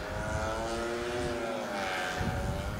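A snowmobile revs hard as its track spins while climbing a hill through light, fresh powder snow, producing a loud, steady droning engine whine that holds throughout with no talk.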